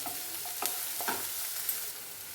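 Onions frying in a pan over a medium flame, a steady soft sizzle with a few brief scraping stir clicks, close and alone with no talk.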